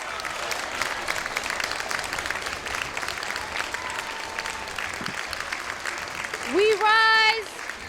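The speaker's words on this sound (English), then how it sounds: "Round of applause" A standing crowd applauds at a women's gathering, a steady wash of clapping with voices and a whoop rising over it near the end.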